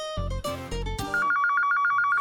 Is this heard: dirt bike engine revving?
no